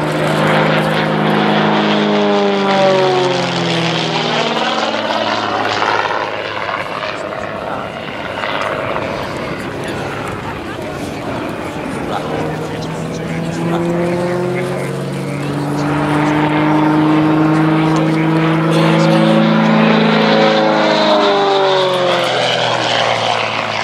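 Gamebird GB1 aerobatic aircraft flying a display at Sywell, its propeller engine droning steadily with pitch sweeping up and down as it passes, loud throughout with a commentator talking over it.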